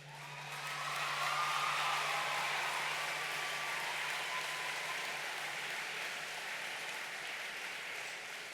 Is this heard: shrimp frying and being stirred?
no